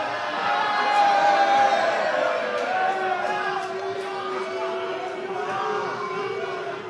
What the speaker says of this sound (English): the crowd definitely cheering on for Jamia